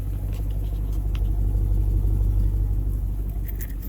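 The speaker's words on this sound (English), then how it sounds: "Engine is running strong, transmission, all that's running strong." A 2015 Dodge Charger Pursuit with a custom exhaust idles steadily nearby, a low, even rumble with no revving, and nobody speaking.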